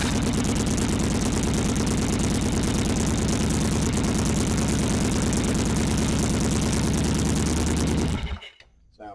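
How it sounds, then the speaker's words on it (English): A 1982 Yamaha Virago XV750 motorcycle engine cranks over and runs with a loud, steady, dense low throb for about eight seconds, then cuts off abruptly into near silence. "when we hit the start, it should crank up"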